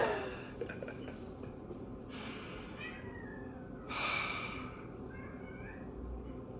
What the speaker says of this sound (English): My cat is making noise.